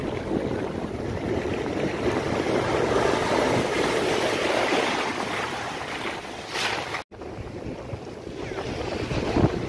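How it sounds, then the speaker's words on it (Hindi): Sea waves wash onto Paradise Beach in Pondicherry, a steady roar of surf with wind buffeting the microphone throughout, one brief dropout near the end, no talking. "थोड़ी देर बैठ के शांत मन से आप समुद्र की आवाज़ सुनो, वेव्स की"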